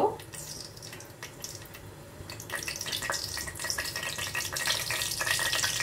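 Two bay leaves dropped into hot oil in a kadai crackle and sizzle softly, the frying growing a little busier over a few seconds, while someone talks in a home kitchen preparing Kolkata-style chicken rezala.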